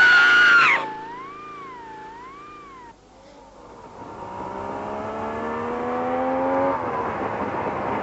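A motorcycle rides past in a puppet-show scene, its engine note rising as it approaches and swells to a steady loud drone, following a brief cat-like wail at the start.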